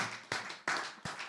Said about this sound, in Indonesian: Saya boleh tepuk tangan dulu dong